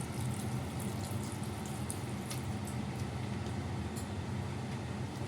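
Water is poured into a pan of simmering vegetables as fish curry cooks, giving a steady, even rush of splashing and bubbling that runs unbroken from start to finish at moderate loudness, with no talking.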